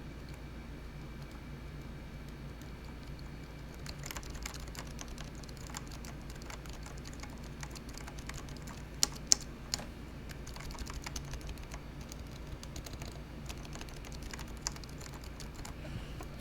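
Typing on a Topre keyboard fitted with Deskeys silencing rings, quiet muffled thocks in a steady irregular stream, picking up in density partway through with a few sharper clacks, close and soft against a low background hum.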